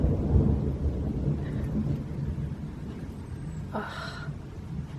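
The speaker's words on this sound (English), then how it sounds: "Can you hear the thunder?" A low rolling rumble of thunder from a summer thunderstorm during a heatwave, just as rain starts to fall, steady and moderately distant, with a brief brighter crackle near the end and no talking.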